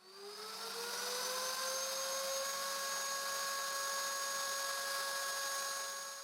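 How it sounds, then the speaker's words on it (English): A handheld router with a straight bit cutting a mortise for a full mortise chest lock, a loud, steady high-pitched whine that spins up at the start and holds close and alone throughout. "I finish routing the mortise, pushing down the router bit right on the marks"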